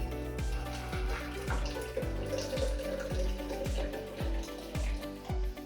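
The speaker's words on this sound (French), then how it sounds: "Je verse ensuite 5 g de thé noir et 1 litre d'eau chaude." Hot water, a full litre, is poured over black tea to start a kombucha brew, giving a steady, close stream with regular rhythmic glugs.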